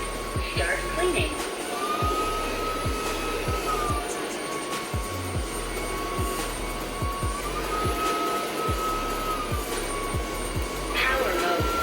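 A UWANT D100 cordless wet and dry vacuum cleaner runs steadily and loudly throughout, a continuous whine with a rhythmic low pulsing beneath it and a slight pitch shift partway through.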